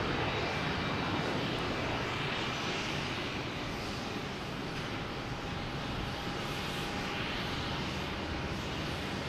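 Embraer E145 regional airliner arriving at Boston Logan Airport, a steady broadband jet roar held at an even level throughout, with no voices.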